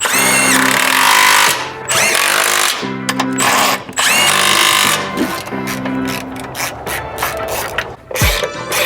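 A power tool tightens triple-square bolts on an Audi S4 during a motor and transmission mount install. It gives a loud, close, sustained whirring with stuttering ratchet-like bursts and short stops.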